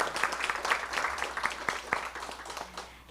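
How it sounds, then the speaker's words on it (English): Audience applause at a school board meeting, a modest crowd clapping with distinct individual claps, fairly close, tapering off toward the end. "so let's give Ezra a round of applause"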